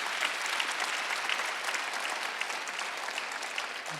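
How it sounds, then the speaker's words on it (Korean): A church congregation at a Sunday worship service applauds vigorously, a dense, even wash of many hands clapping that stays loud and steady for about four seconds. "박수 세게 쳐요"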